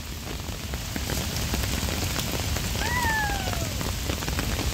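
Thoseghar waterfall at Mahabaleshwar roars as a broad, steady rushing wash of falling water, loud and constant, while a brief bird-like whistle rises and falls near the end and no one speaks.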